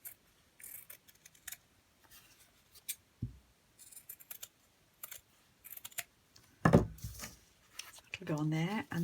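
Scissors snipping through material for a junk journal, sounding as a series of close, crisp cuts in short bursts, with a person talking over parts of it near the end.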